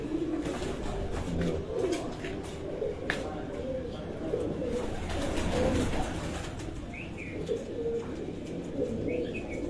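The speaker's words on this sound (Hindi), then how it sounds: "ये बटेरे कबूतर हैं जो हम आपको दिखा रहे हैं।" Pigeons coo repeatedly in soft, low throaty phrases over a steady background hum, with a few faint chirps from other birds.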